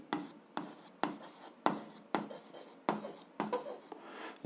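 A pen writes on paper during an algebra lesson, giving about eight quick, close scratchy strokes in a steady rhythm with brief pauses between them, and no talking.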